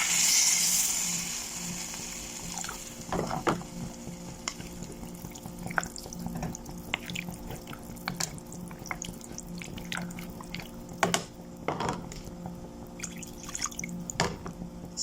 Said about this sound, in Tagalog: lagyan na natin siya ng sabaw